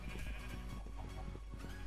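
Sheep bleat in the video game Adventure Craft, a steady wavering bleat that sits over busy in-game background noise and holds at a fairly constant level throughout.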